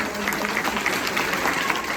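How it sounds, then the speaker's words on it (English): An audience claps for newly inducted National Junior Honor Society students at a middle school ceremony, a steady, moderately loud wash of many hands lasting a couple of seconds. "give these students a round of applause"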